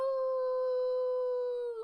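A drawn-out howl imitating a wolf, voiced by a family together, rises in one long sustained tone close to the microphone before trailing off.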